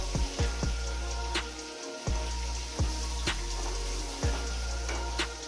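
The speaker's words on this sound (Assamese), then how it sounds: "এনেকৈ লৰাই থাকিব, আৰু যেতিয়ালৈ তেল ওলাই নাযায় তেতিয়ালৈ ভাজি থাকিব।" Spices fry in oil in a pan with a constant crackling sizzle, broken every second or so by the knock and scrape of a spoon stirring them.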